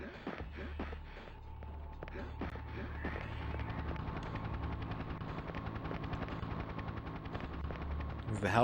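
A helicopter in the N64 video game Shadow Man, a steady rapid rotor chop with bursts of gunfire-like clatter at the start, holding at a constant loudness and rising slightly at the end.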